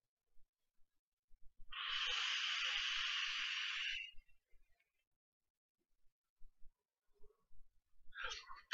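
An electronic cigarette at 50 watts with 100% VG liquid gives one long steady hiss of about two seconds during an inhale, followed by soft breathing and the start of a second draw.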